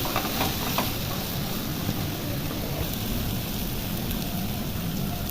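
Masala paste frying in a pan with onion and oil for Bengali chicken kosha curry: a continuous dense sizzling hiss with faint crackles, steady and close, no talking.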